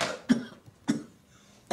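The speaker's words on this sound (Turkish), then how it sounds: "Doktor ne dedi öksürüğüne?" Three separate coughs from a man in a Turkish comedy film, each a short harsh burst with quiet gaps between them, close and fairly loud.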